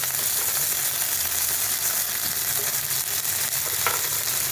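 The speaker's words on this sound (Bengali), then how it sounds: "আমি এখন এই মাছ ভাজার তেলের মধ্যেই একটা গোটা লঙ্কা, একটা তেজপাতা দিয়ে দিলাম, আর একটু গোটা গরম মশলা দিয়ে দিলাম" Whole dried chili, bay leaf and whole garam masala sizzle in leftover oil from frying fish, a steady, close, dense crackle and hiss with no voices.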